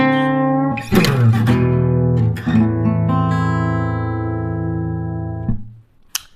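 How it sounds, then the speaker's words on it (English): A blues guitar lick played at a quicker pace, with a flurry of picked notes and bends that ring out into a long sustained final note, loud and close, alone. "There's your guitar lick number 2."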